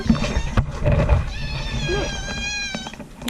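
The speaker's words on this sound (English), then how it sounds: "It's one of my last times feeding these cats." Cats meow near a boat moored in a harbour, several drawn-out high cries overlapping one another, close and fairly loud, with brief human speech at the start.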